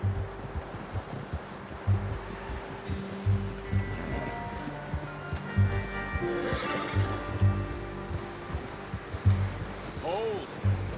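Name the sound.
horse neighing and hooves in video game Red Dead Redemption 2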